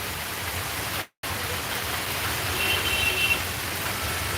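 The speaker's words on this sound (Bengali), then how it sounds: "প্রচুর বৃষ্টি," Heavy rain pours steadily in Sylhet, a dense, even hiss that fills the scene from close by, broken only by a split-second dropout before the downpour resumes unchanged.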